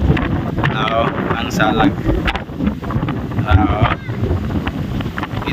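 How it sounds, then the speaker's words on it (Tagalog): Strong, cold wind gusting across a grassy mountainside slope, blustering steadily into the microphone while someone talks over it. "Grabe yun kahangin ni idol, bugnaw kay hangin"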